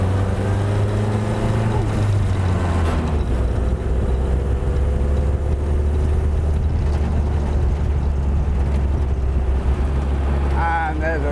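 Pre-war hot rod with a high-torque engine lapping a twisty circuit, held mostly in second gear, a loud continuous low drone with rising and falling pitch as it accelerates and eases, wind buffeting throughout.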